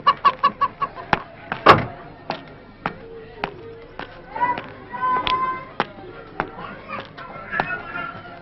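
Chickens cluck in a rhythmic series of sharp repeated calls, with a loud squawk early on, mixed with choppy knocks and people talking nearby in a lively outdoor setting.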